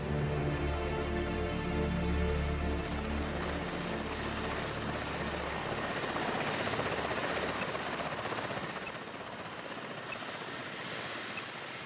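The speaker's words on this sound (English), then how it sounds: "the helicopter provides a distraction, saving the boar." Helicopter flying over snowy wilderness, a loud continuous rotor thrum and engine drone that fades slightly toward the end, with no voices.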